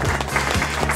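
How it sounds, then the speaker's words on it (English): A studio audience at a mixed-reality show claps in a brief, full burst of applause lasting about a second. "we have a guest, and we have applause."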